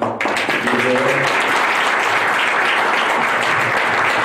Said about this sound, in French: Si vous permettez, on va encore applaudir Madame Lévert.